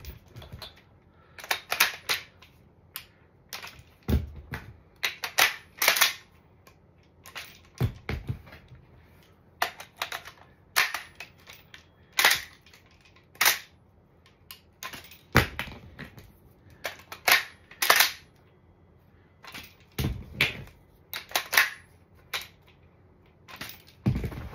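Airsoft M4-type URG-I rifle magazine changes, each a sharp plastic-and-metal clack of release and seating repeated in quick irregular bursts, close and clear with quiet gaps between, no talking.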